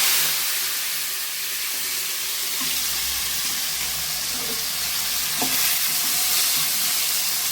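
Chopped tomatoes frying with fennel seeds for tomato rice, a steady broadband sizzle with occasional stirring clinks, close and continuous, no voices.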